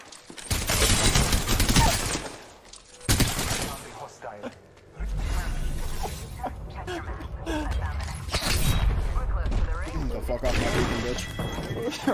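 Bursts of rapid gunfire in the video game Apex Legends, loud and close, arriving in dense volleys with short gaps between them, over excited talk from players.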